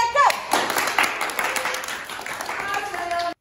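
A room full of people claps in a quick round of applause for Sterling, a brief burst of dense clapping with voices talking and cheering over it.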